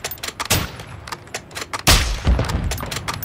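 Gunfire from the online shooter Call of Duty DMZ: several sharp, loud shots and bursts cracking out in irregular succession, with the heaviest burst near the end and a little background noise between them.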